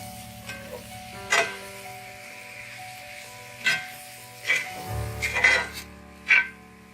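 Mushrooms with salt and turmeric stirred in a hot pan, a soft steady sizzle broken by several scraping strokes of a spoon across the pan.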